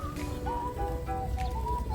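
A duck quacks with clucking poultry calls over a steady low rumble of outdoor noise in an Odesa park, close and continuous throughout.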